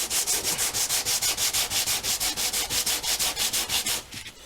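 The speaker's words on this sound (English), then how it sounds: "I'm just going to go very quickly with a piece of 180 grit" Wenge hardwood being hand sanded with 180 grit sandpaper, a close, rhythmic rasp of quick even back-and-forth strokes, about five per second, stopping near the end.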